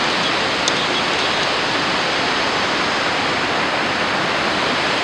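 Steady, dense roar of a river waterfall near a landslide-scarred valley by an old bridge, a continuous broadband rush with no breaks, loud and close throughout, no voices.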